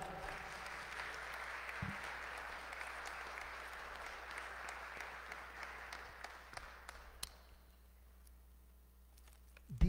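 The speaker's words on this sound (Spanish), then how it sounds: "Un aplauso." Applause from a church congregation during a Mass for the Solemnity of the Epiphany, a steady dense wash of clapping across the space that thins out and fades toward the end.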